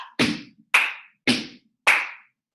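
Four crisp, evenly spaced claps during a Broadway-style step-clap sequence in a live tap dance class, each sharp hit close and loud with a quick decay and brief silence between.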